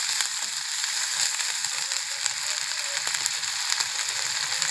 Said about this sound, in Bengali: পেঁয়াজ বাটা ফুটতেছে